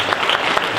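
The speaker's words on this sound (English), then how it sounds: "give them a round of applause" A convention panel audience claps in a brief burst of applause, loud and close, lasting under a second.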